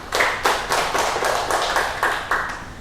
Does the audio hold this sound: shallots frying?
no